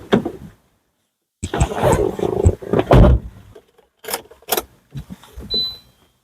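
A 2016 Maruti Suzuki Ertiga VXi petrol car with 68k on the clock cranks and catches on a single self-start, giving short bursts of starter and engine noise separated by pauses, with some clicks and handling sounds.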